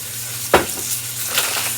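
Chicken browns in a frying pan under a constant soft sizzle, broken by two brief louder spatters or stirring noises, the first sharper than the second, with a low steady hum underneath and no talking.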